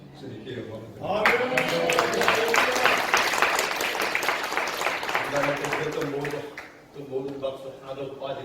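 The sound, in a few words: applause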